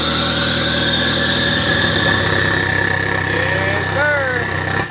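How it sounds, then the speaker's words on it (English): A DSM GSTX car engine idles steadily and loudly throughout, with a rough low rumble and a persistent whine on top, rising slightly near the end. "Let's fire it up. One last send off, the final running of the GSTX."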